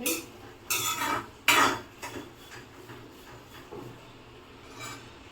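Moth beans (matki) are dry-roasted in a pan, with a few sharp scraping clatters of a spoon against metal, followed by softer, scattered rattles and stirring, quiet and close.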